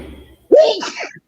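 A single sharp allergy sneeze bursts out close and loud after a faint murmur, followed by a brief trailing exhale.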